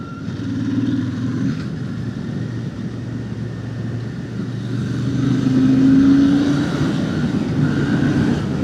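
A Royal Enfield Shotgun 650 motorcycle engine drones steadily on a rural road, its pitch rising and falling as it works through the gears, loud and close with wind noise.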